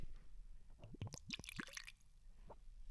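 Rare old whisky poured into a glass: a few quick glugging drips and splashes in a short burst, close and fairly quiet, followed by a brief faint drip.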